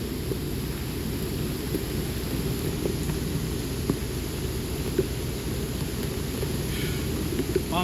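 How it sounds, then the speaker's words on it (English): A thunderstorm in North Plainfield, New Jersey: steady, dense rain hiss fills the scene with faint low rumbles of thunder beneath, continuous and even with no speech. "Every lightning strike and thunderstorm counts."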